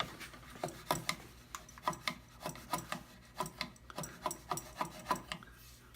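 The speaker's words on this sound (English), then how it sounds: "So when you chip a bung, you always start high." A chisel chips a wooden bung in a rhythmic series of short, scraping cuts, about a dozen sharp strokes in steady succession, close and fairly quiet.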